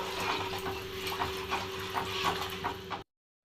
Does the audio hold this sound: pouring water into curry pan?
yes